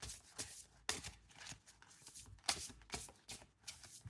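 Tarot cards are shuffled in quick repeated riffles and slaps for several seconds, each burst short and crisp, faint and close with no voice over them.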